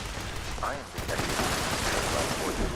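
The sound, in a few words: gunfire from the video game Fallout 76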